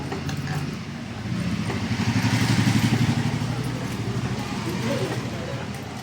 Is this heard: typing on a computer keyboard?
no